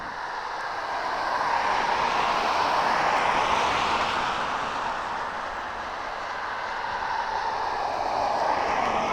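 A jet aircraft at East Midlands Airport at night gives off a broad, steady roar that swells slightly and holds throughout, distant but filling the scene with no talk over it.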